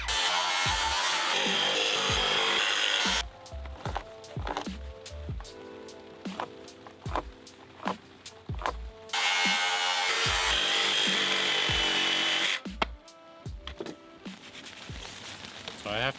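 A circular saw notches and trims deck boards on a small side deck and stair landing, two long loud cutting runs with rhythmic knocks and taps between them.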